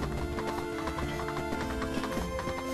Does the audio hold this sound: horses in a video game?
yes